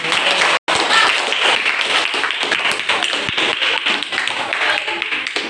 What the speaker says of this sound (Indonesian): beri aplaus untuk Jenny ya